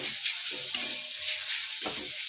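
Ingredients for egg do pyaza fry in a pan, a close, continuous hiss of sizzling oil broken by a few short stirring scrapes, with no talking.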